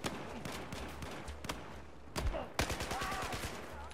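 Battlefield 4 gunfire in a match, a mix of rapid bursts and single sharp shots, some close and loud, others more distant, spread over several seconds with faint voices in the background.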